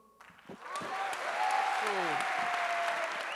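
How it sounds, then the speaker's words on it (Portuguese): Audience applause for a poet at a Black feminism panel event, swelling quickly into steady, sustained clapping that fills the room, with a few voices calling out over it. "Palmas para Lívia Natália, a poeta das nossas palavras."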